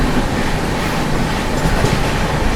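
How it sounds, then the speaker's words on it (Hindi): The Gorakhpur LTT Express runs alongside as the CR Rajdhani Express overtakes it on a ghat section, giving a loud, continuous rolling rumble with faint rhythmic wheel clatter and no speech. "ये रही आप लोगों की भाई गोरखपुर एलटीटी एक्सप्रेस। कर दिया ओवरटेक भाई।"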